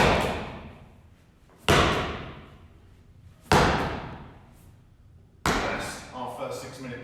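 Four heavy exercise-ball slams hit the floor during a home workout, each a sharp loud thud that decays slowly, spaced about two seconds apart, with faint talk between them.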